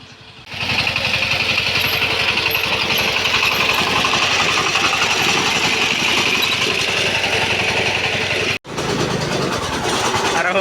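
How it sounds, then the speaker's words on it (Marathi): A power tractor engine runs loud and close, a steady rough chugging drone that holds for several seconds, cuts out for an instant and then resumes just as strongly. "ट्रॅक्टरचा नुसता आवाजच यायला आहे"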